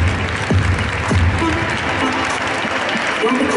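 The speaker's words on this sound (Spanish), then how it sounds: "Fuerte el aplauso para la escuelita de básquet." Crowd applause at a school sports-program closing ceremony, honoring a youth basketball school, broad sustained clapping from a large audience with a murmur of voices and brief calls mixed in.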